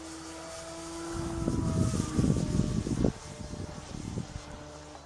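An ST Model Acrobat model airplane on its maiden flight, its small engine or motor tone rising and buzzing nearby with a whirring propeller, loud and then easing slightly.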